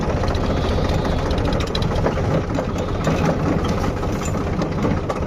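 A farm tractor engine runs at idle on village farmland, loud and close, with a steady low rumble and a faint mechanical rattle throughout and no talk.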